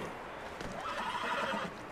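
A horse in Red Dead Redemption 2 gives a clear whinny over a steady game ambience, a single drawn-out neigh with faint hoof clops, moderately loud.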